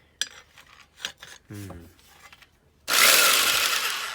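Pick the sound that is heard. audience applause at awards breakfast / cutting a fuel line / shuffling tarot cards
cutting a fuel line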